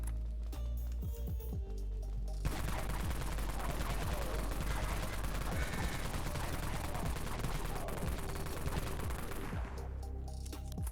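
In the game Dead Frontier, the Kraken minigun fires one long, dense burst of rapid rounds. It starts after a quiet moment with a low hum, runs for about eight seconds, then stops, and no one speaks over it.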